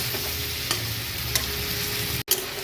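Small chopped onions fry in a pan with a steady close sizzle, a few light utensil clicks, and a momentary drop-out near the end before the hiss resumes.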